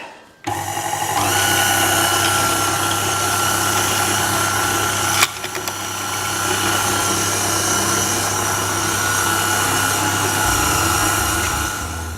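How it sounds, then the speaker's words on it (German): A meat grinder mincing chilled veal for tartare runs as a loud, steady motor drone with a low hum, has a brief clunk partway through, and then winds down at the end. "Ich habe jetzt das Fleisch durch den Fleischwolf gelassen."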